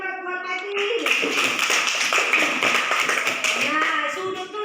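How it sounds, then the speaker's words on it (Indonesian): Children in a primary school classroom clap together for a pupil named Pati, a steady patter of many hands lasting several seconds, with a teacher's voice around it. "Tepuk tangan buat Pati"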